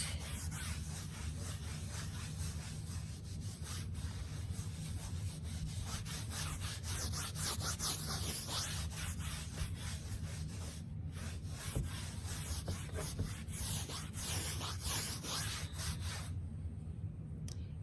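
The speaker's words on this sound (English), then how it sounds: "Then I'm going to take my cotton square again. I'm going to rub it to get that effect." A cotton square rubbing oil pastel on paper, a soft, continuous scratchy friction close to the microphone, steady for most of the stretch with a low background rumble.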